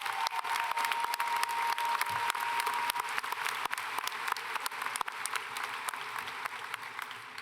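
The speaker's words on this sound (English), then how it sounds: "Can we get a round of applause for all our building support people?" A large crowd applauds at a high school graduation ceremony at Beavercreek High School, with sustained, even clapping and a few sharper claps standing out throughout.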